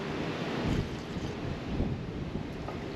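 Strong wind in the Wyoming backcountry near Alcova buffets and roars across the microphone in steady gusts, a constant loud whoosh with no voices.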